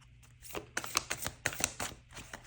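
Tarot cards shuffled and drawn in quick, crisp riffling bursts, close and fairly quiet, with a brief flurry of flicks and slides and no voice over them.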